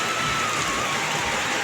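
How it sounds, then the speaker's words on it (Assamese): Heavy rain pours steadily at a stalled outdoor welding work site, a dense, even wash of close hiss that fills the whole stretch with no breaks and no voices. "বেলেগ বৰষুণ দিছে"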